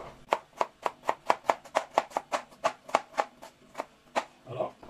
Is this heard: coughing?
no